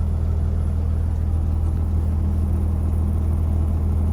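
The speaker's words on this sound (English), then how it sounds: "there's plenty of log trucks though" Log trucks drive past, a continuous heavy engine rumble with steady low-end drone holding level throughout, no clear approach or fade.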